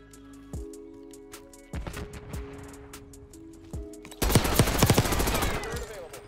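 KSV gunfire in Black Ops 6, with single shots and short bursts at first, then a long, loud stretch of rapid continuous automatic fire near the end, under some game sounds.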